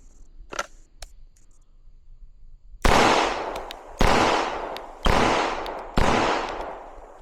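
Four sharp, loud shots from a Springfield Prodigy 2011-style pistol at a shooting range, spaced about a second apart, each cracking out and ringing off before the next.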